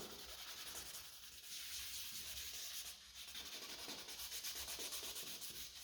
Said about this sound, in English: now I will wet sand it, this mirror plastic cover